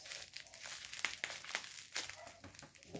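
Bubble wrap packaging from an online shopping haul being handled up close: soft, faint crinkling with scattered small crackles and rustles.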